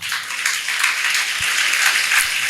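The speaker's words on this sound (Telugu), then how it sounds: "వారందరూ గట్టిగా బిగ్గరగా చప్పట్లు కొట్టండి" A church congregation claps loudly together, a dense, continuous wash of hand claps filling the room for a few seconds with no talking over it.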